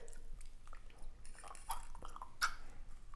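Someone chews on a rubbery jaw trainer, giving soft, wet squishing and clicking bites in a loose, uneven rhythm, close up and fairly quiet with no talking.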